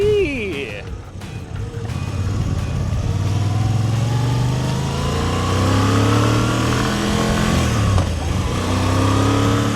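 A Moto Guzzi V85 TT motorcycle warming up: a steady, close engine drone that runs without a break, its pitch climbing gradually as the revs rise, with the tone shifting a little near the end.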